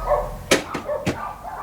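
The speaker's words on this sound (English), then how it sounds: "Dog's barking." A dog barks indoors, a few sharp yips in quick succession close by, with short quiet gaps between them.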